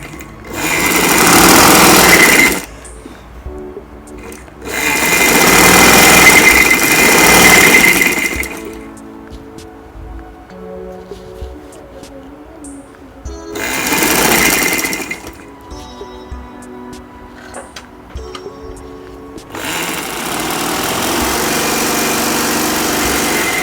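A sewing machine stitches the chest seam of a ladies' shirt in loud bursts of rapid, even whirring, four separate runs with quiet pauses between, then a steadier final run.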